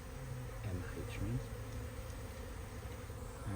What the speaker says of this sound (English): these ones look to me like robber bees. See, trying their luck, look